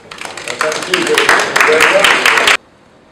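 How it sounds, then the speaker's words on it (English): Audience applause at a theater group interview, dense clapping from many hands building for about two and a half seconds and then stopping abruptly. "Give yourselves a round of applause"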